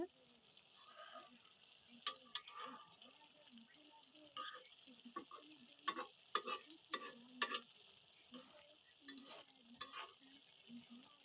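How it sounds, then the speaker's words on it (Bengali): A Bengali small-fish and potato chorchori is stirred in a pan, soft and fairly quiet, with clusters of spatula scrapes and taps over a faint simmering hiss, coming in irregular bursts. "এখন একটু ভালো মতো নেড়ে চেড়ে দিব"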